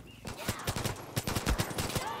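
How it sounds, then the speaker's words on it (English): Gunfire in the video game Far Cry New Dawn, a run of repeated sharp shots and bursts at moderate loudness, with faint game sounds between them. "One of those guys shot me."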